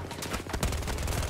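In Battlefield 2042, a full magazine is dumped in rapid automatic fire, bursts of sharp, loud gunshots crackling continuously through the brief moment.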